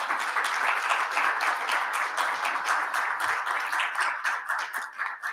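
Audience applause greeting a guest at a formal commemoration event, a dense, steady wash of many hands clapping throughout, fairly close and sustained without pause.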